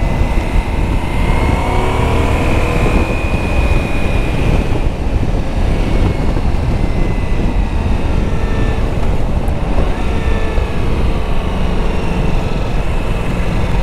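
A Ducati Multistrada V4 motorcycle engine pulls hard under acceleration, its rising whine riding over constant loud wind rush for the whole stretch, with no talking.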